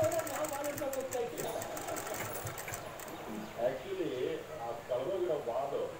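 A sewing machine runs steadily, stitching contrasting lace along the joined seam of a full-sleeve casual blouse. The whirring is continuous and close, with the motor pitch wavering slightly through the stretch.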